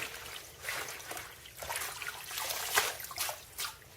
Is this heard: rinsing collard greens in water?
yes